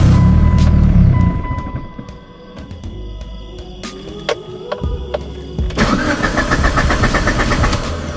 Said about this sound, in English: It's a little late, but neighbors never mind to hear an Evo, right?